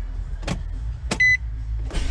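A car is switched off: a couple of soft clicks and thumps, then a short electronic chime, over a low steady rumble in a quiet cabin.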